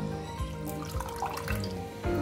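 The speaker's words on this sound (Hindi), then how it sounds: "पहले पुदीना धो लो चंगी तरह" Mint leaves are rinsed under running tap water, which pours and splashes steadily over the sink with occasional louder splashes and drips as the leaves are handled.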